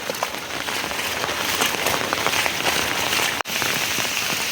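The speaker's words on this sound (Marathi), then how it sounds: "आणि पाऊस बघ कसला पडतोय" Heavy unseasonal rain in the Konkan pours down in a dense, steady hiss of drops hitting surfaces, close and loud, with a momentary break near the end.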